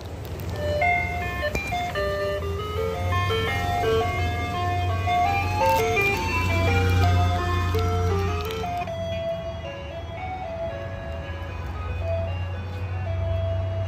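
A blue ice cream truck plays its melodic jingle over and over, the tune ringing out loudly and steadily over the low rumble of an idling engine nearby.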